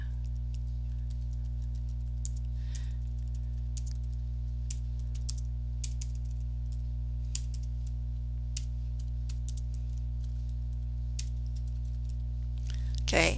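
Someone types a comment on a computer keyboard, making scattered light key clicks in short bursts over a steady low electrical hum.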